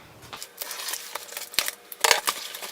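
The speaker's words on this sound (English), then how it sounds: "So I'm just going to cut into this with my scissors here." Scissors snipping and cutting open a small shipping package, giving a run of short, crisp cuts and crinkling rustles up close, with a louder burst of cutting near the end and no talking.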